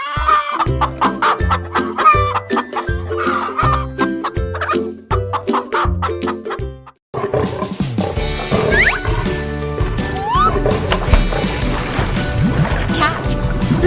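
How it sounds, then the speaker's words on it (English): A hen clucks in quick repeated bursts over bouncy children's music, the clucks loud and close before the music carries on alone. "Hen."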